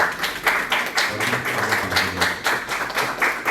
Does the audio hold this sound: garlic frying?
no